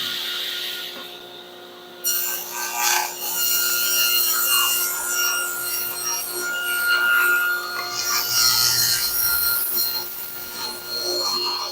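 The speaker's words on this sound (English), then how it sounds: "I'm just going to cut a 3-inch strip for that" A 3-inch strip of wood is hand-sawn nearby in a home shop, rough rasping strokes rubbing back and forth continuously with a brief quieter pause near the start.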